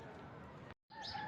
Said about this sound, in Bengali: এগুলো কবুতরের খামার।